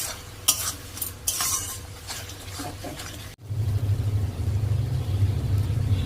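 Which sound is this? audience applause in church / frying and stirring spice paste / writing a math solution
frying and stirring spice paste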